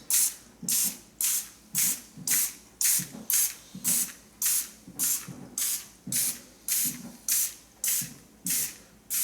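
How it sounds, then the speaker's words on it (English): Butter-flavored cooking spray is sprayed onto paper muffin cups in bursts, roughly sixteen short even hisses in a steady rhythm, close and clear, with no voices. "spray your paper cups with some cooking spray"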